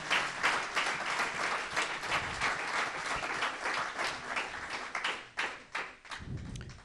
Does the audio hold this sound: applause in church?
yes